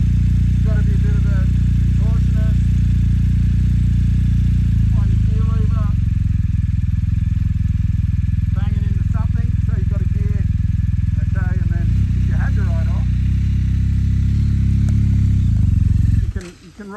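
A 2021 BMW motorcycle engine idles steadily and loudly throughout, a constant low rumble with someone talking over it on and off, cutting out abruptly near the end.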